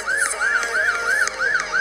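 Police car siren wails in a rapid repeating up-sweep, about five cycles in two seconds, loud and steady with no talking over it.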